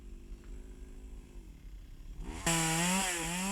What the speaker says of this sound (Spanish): ahora las sierras mecánicas permiten al podador abarcar amplias zonas de la dehesa